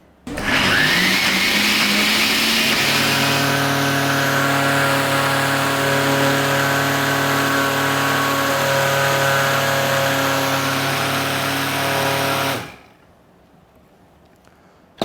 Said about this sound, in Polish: Następnie blender szczelnie zamykamy